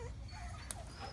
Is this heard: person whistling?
no